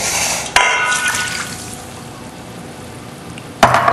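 Cherry juice pours steadily into a container for a few seconds, framed by two sharp clunks at the start and end.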